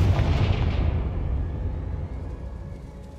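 A Confringo fire spell explodes in the Hogwarts Legacy video game, a deep booming blast that rolls out and slowly fades over a few seconds.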